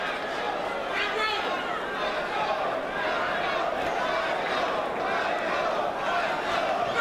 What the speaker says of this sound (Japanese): 歓声が湧き上がっています。